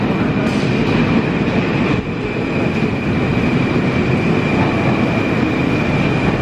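Steady loud rumble of a Moscow metro train riding toward Taganka, with a constant high whine and a brief dip in the noise partway through, no voices.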